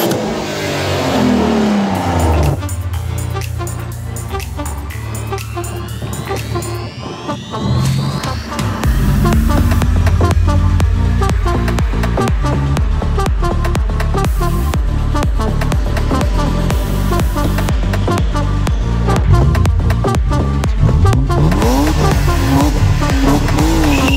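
A 1994 BMW E36 320 Cabrio engine revs loudly and continuously, pitch rising and falling through repeated throttle blips, close by with no talk over it.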